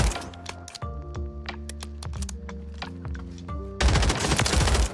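Submachine gun fire with a buffed, very fast fire rate in Warzone 3: scattered sharp shots over tonal game sounds, then a loud, dense rapid-fire burst through the final second.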